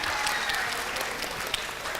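A studio audience at a religious quiz game show breaks into brisk, steady applause for a correct answer, a short burst of many hands clapping.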